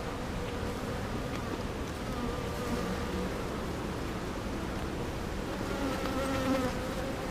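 Honeybees buzz densely around an open hive with its brood box exposed on a hot day, a close, continuous droning hum with individual bees whining past the microphone.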